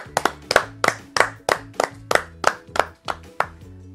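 A church audience claps in a quick, even rhythm of about a dozen sharp hand claps, close and clear, with low music underneath.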